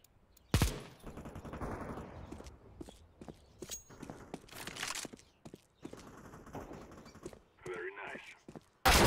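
Scattered gunshots and footsteps in Counter Strike 2, sharp loud cracks separated by gaps, with a burst of shots near the start and another at the very end, mixed with game ambience and some voice activity.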